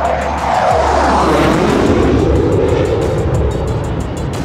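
An Oris Swiss Hunter jet roars past up close, a loud broad rushing engine noise that swells and shifts in pitch as it passes, with no voices.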